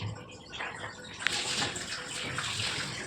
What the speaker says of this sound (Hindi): सबसे पहले बॉटल में पानी भर लेती हूँ मैं